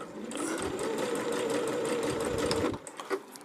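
A Pfaff Ambition 610 sewing machine sews a tie-on stitch with a fast, steady, close whir for nearly three seconds before stopping abruptly. Faint handling noises follow.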